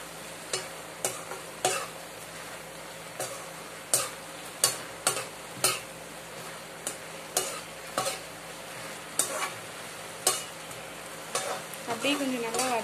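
Coriander being sautéed into tomato chutney in a pan, with a spoon scraping and stirring in an irregular rhythm of sharp strokes over a steady, soft background sizzle; no voices.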